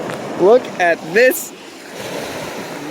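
Ocean surf rolls onto the shore as a steady wash of noise with some wind. A person speaks briefly over it.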